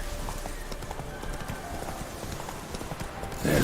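Horse hooves gallop in a steady, rapid clip-clop across open ground in The Witcher 3's Velen, continuous and fairly close, with a brief louder burst of movement near the end.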